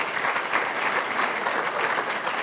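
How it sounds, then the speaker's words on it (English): Steady, dense round of applause from an audience honoring Steve Largent, continuous and fairly loud from start to finish with no pauses. "So let's give another round of applause to Mr."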